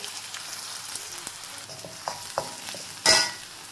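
Ginger dropped into a hot frying pan while cooking chilli chicken, giving a soft sizzle with stirring clicks that swell into a brief louder hiss of frying near the end.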